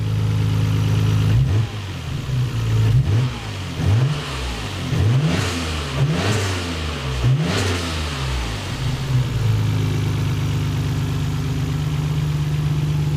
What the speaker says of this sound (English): Give it a little bit of rev.